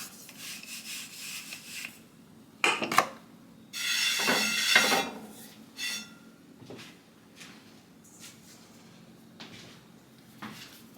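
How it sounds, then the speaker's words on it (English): Hands lightly rubbing flour onto a pizza pan and rolling pin, quiet dry brushing and scraping strokes in short bursts with one longer rubbing pass and soft knocks of the pan, no talking. "We're going to start by lightly flouring our pan, and our hands,"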